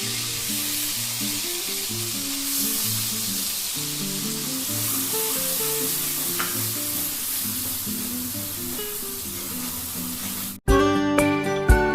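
A paste of cashews, raisins and melon seeds sizzles steadily in a hot pan while cooking a Bengali cauliflower dish with green chilli paste, with soft music playing over it and a sharp clatter at the end.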